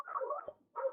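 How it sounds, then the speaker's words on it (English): A dog gives two quick, close barks, the first drawn out slightly, the second short, heard clearly in a quiet indoor room during an online meeting. "Sorry for the dog barking."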